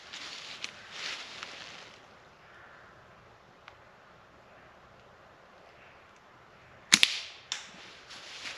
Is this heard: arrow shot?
yes